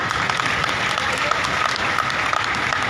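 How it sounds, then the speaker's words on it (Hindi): An audience at a live folk singing event claps loudly and continuously, a dense close applause lasting the whole moment. "एक बार जोरदार तालियां हो जाए।"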